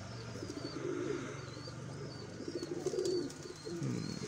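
A Kasuri pigeon coos softly in low, repeated rolling notes close by, with faint chirps and background ambience around it.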